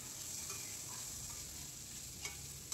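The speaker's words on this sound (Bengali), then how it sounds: "আমি কড়াইয়ে তেল দিয়ে এই উপকরণগুলো দিয়ে ভালোভাবে ভেজে নিচ্ছি।" Chopped onion, green chili and paneer fry in oil in a wok, giving a steady soft sizzle with a couple of light stirring clicks near the end, and no voices.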